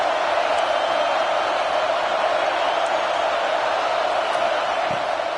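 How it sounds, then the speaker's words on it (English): A football stadium crowd roars as a steady, distant wash of noise, continuous and even with no distinct cheers standing out. "This crowd ready to make its presence known"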